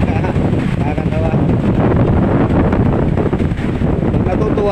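Large sea waves crash and churn continuously along a beach, close and loud with heavy wind buffeting the microphone, while people talk nearby.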